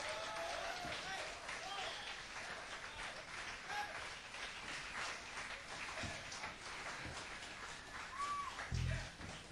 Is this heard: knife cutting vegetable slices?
no